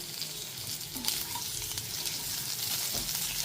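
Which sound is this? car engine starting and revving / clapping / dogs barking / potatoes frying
potatoes frying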